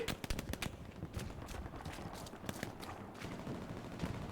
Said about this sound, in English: There's a Sturmgewehr being fired near you.